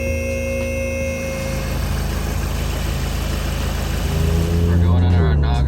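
A Volkswagen GTI with a newly upgraded turbo runs at a steady idle, a continuous low engine drone with a faint whine. The pitch and loudness step up noticeably near the end.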